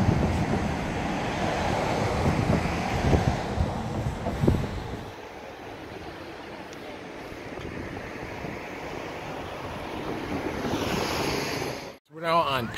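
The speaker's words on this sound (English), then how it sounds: "The wind's coming in off the Pacific." Strong wind coming in off the Pacific roars across the Deception Pass bridge, a steady, loud buffeting rush with rumbling microphone gusts that eases midway, swells again, then cuts off briefly near the end.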